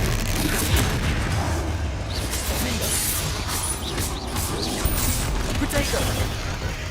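Repeated Confringo blasting-spell explosions during spell combat against a troll in Hogwarts Legacy, dense booming bursts layered over a constant rumbling battle din.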